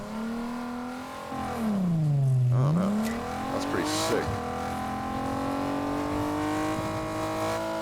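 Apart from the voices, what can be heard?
car engine driving, video game Fortnite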